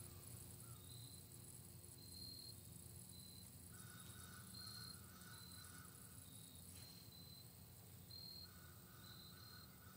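Crickets chirp steadily in a quiet outdoor setting, several trilling layers overlapping at a faint, even level with a soft low hum underneath.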